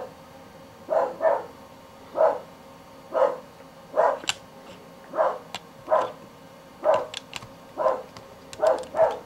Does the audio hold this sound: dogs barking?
yes